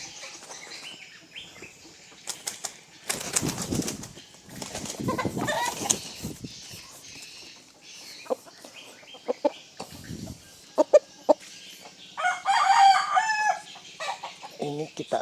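A chicken on a swing, with bursts of wing flapping and scuffling, clucks and squawks, and crowing from other fowl nearby, irregular and fairly close.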